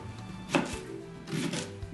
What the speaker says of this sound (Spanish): Ahora vamos a rebanar también la cebolla